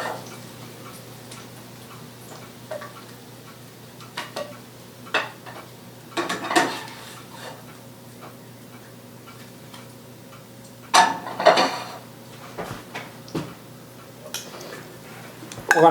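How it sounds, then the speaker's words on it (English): Seared keto-crusted salmon being plated with steamed carrots in a home kitchen: scattered clinks and taps of plates and cutlery over a quiet steady hum, with a cluster of louder clatter later on. "So I'm going to plate this up now"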